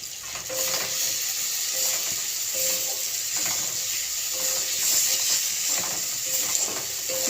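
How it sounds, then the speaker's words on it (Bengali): A spice paste with Kashmiri chilli powder frying slowly in oil over a low gas flame gives a steady, close, dense sizzle with faint scraping and stirring sounds beneath it. "মশলাটা ততক্ষণ কষতে হবে গ্যাস কমিয়ে, যতক্ষণ না মশলাটার থেকে একটা তেল ভাব বেরিয়ে আসে"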